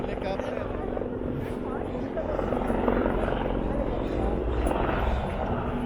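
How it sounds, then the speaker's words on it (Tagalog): Helicopter rotor and engine roaring steadily and fairly loud throughout, with people talking close by under the continuous noise. "ayun na yung helicopter"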